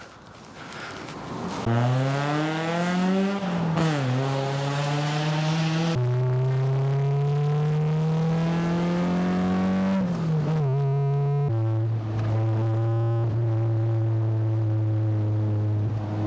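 A loud Mazda MX-5 Miata engine drones steadily on a test drive, its pitch climbing and dropping through repeated gear changes with strong harmonic whine, close and continuous with no talk.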